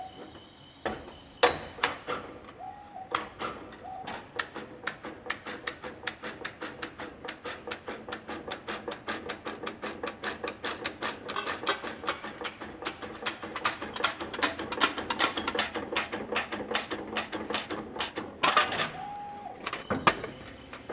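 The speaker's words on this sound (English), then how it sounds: "we can create slits in the flange by using the flanging unit, and that's what we're using here" A ChannelBender SXP flanging unit cuts slits into the flange of .040 channel-letter material, giving a long, steady run of sharp, rapid mechanical clicks and ratcheting taps with brief louder knocks near the start and end.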